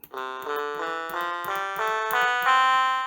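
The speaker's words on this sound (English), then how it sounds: "trumpet," Electronic trumpet voice on a VOGURTIME DIY soldered piano kit, playing a run of sustained, buzzy synthesized notes one after another, bright and close with no talking.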